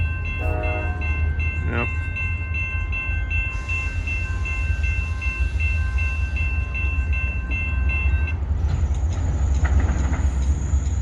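A CSX freight train rolls past nearby in Plymouth with a steady rumble and wheel noise, horn blasts sounding early on and a sustained squeal through the middle; one person speaks briefly.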